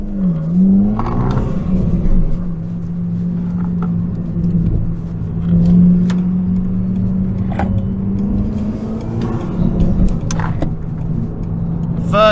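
A Mk2 Seat Leon FR with stage 2 tuning accelerating hard with the foot down: a steady, loud engine drone climbs in pitch through the gear, heard from inside the car.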